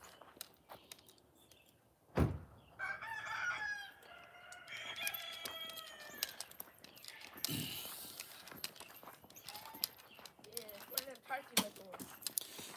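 Guinea fowl call loudly outdoors in the morning near a parked RV, a chattering, cackling flock sounding in repeated bursts, with a person speaking over them and other birds in the background.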